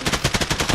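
Full-auto burst from an AK rifle loaded with FMJ rounds in the Exfilzone shooter game, about eight rapid evenly spaced shots, loud and close, with no talk.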